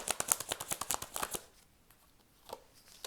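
A deck of tarot cards is shuffled in a quick run of crisp, close riffling snaps, then stops; one faint card tap follows in near silence.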